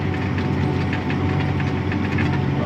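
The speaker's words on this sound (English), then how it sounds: "I don't know what tractor and disc this is." A farm tractor hauling a disc harrow runs close by, its diesel engine producing a loud, steady, rhythmic knocking drone throughout, with no voices over it.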